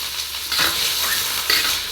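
Carrot and potato pieces frying in oil in a pan for afritada, a bright, close sizzle with stirring scrapes and brief louder crackles.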